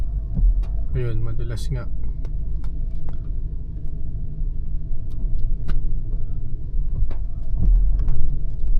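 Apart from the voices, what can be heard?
Ford Raptor engine braking downhill in first gear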